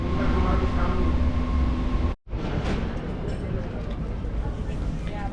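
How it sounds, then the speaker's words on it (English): A subway metro train rumbles loudly and continuously, with a sharp momentary dropout partway through before the steady roar of the carriage resumes, and a faint murmur of voices may sit beneath it. "I get out of the metro"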